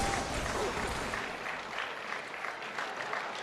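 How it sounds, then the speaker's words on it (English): Steady, dense clapping from a small group of teammates at an esports match continues throughout, fairly close and even, with no break. "the teammates clapping on there"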